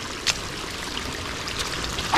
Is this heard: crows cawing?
no